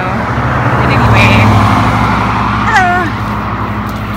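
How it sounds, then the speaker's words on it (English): Busy street traffic with heavy truck flow, a loud steady roadway rumble with engines swelling and fading nearby, someone talking over it. "this is definitely a loud, busy street, a lot of truck traffic"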